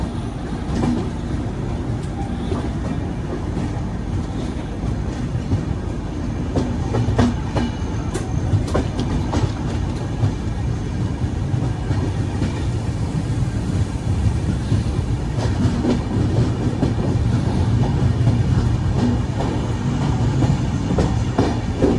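The Lashkar Express 12161 passenger train, running from Lokmanya Tilak Terminus to Agra Cantt, rolls along the rails with a loud, continuous rumble and steady rhythmic clickety-clack of wheels over the track joints.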